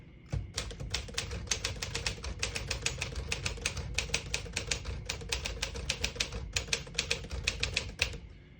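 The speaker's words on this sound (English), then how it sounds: "It's one of the best typewriters ever produced, in my opinion." A 1957 Smith-Corona Silent-Super portable typewriter clacks away in a long, steady run of sharp keystrokes, close and crisp, with small irregular pauses between bursts and no talking.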